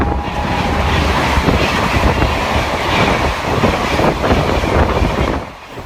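Vande Bharat train running on rails, a loud, close, continuous rumble with rattling clickety-clack from the wheels that eases slightly at the very end; no voices.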